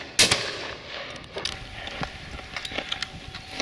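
Shotgun blasts during a partridge and pheasant shoot in open country: one loud sharp report near the start, then scattered fainter bangs and clatter spread through the rest.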